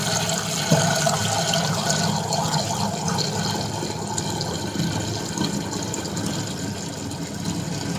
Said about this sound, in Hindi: अब इसको धो देते हैं फटाफट से।